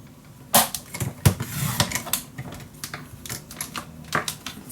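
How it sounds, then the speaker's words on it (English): Scissors snipping a small paper strip for a scrapbook mini album: a few sharp, close clicks and crisp cuts spaced irregularly, with faint handling rustle between them and no talking. "I'm gonna cut this one in half."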